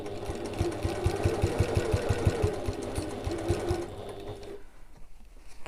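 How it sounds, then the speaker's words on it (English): A sewing machine stitches inside a handmade evening bag, through the exterior fabric, in a fast, rhythmic run of needle strikes that slows and stops near the end, leaving quiet. "I'm sewing inside my bag but on my exterior fabric"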